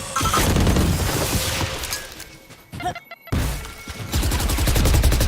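A grenade blast and sustained gunfire in the tactical shooter Valorant during a competitive esports semifinal, with loud crashing bursts, a brief near-silent gap midway, then dense firing resuming.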